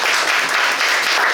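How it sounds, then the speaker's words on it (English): A room full of people applauds a guest speaker, an even, dense burst of clapping at steady volume. "Let's all give a huge round of applause for Mr. Adhiraj Ahluwalia"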